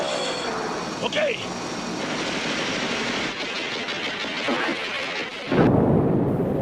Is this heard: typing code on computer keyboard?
no